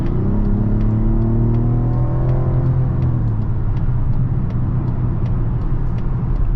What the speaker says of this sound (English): Let's go ahead and do an acceleration right here.